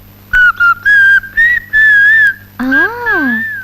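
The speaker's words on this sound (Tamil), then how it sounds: "விசில் வேற அடிக்கிறியா?" A person whistles a tune up close, loud and clear, in several short phrases with brief gaps, ending in a wavering, sliding passage.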